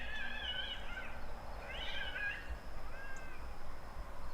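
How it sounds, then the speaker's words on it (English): Unhappy cat outdoors on a rural lease giving three drawn-out, wavering meows, fairly distant and faint over low background rumble. "That cat is not happy."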